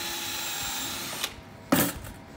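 A power drill whines steadily at close range while drilling a tiny test hole for a screw, then cuts off, followed by a couple of brief, sharp bursts as the bit bites.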